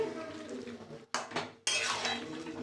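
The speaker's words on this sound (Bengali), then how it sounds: "সাথে পেঁপে আলুগুলো দিয়ে দিলাম, একসঙ্গে কষানো হবে।" Mutton with papaya and potatoes being stirred in a cooking pot, with a spoon scraping and clinking against the metal in a few bursts, close and fairly clear.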